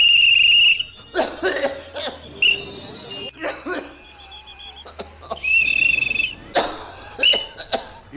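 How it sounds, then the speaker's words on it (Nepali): A person coughs repeatedly in rough, uneven bursts across several seconds, close by, with faint high background tones and some vocal sounds between the coughs. "यो मान्छेले यसरी लगातार खोक्न थाल्नुमा कति भयो?"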